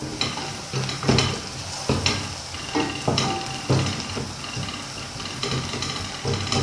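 Garlic frying in a pan for chicken samosa filling, a steady sizzle with repeated stirring scrapes and soft clinks, close and continuous with no talking.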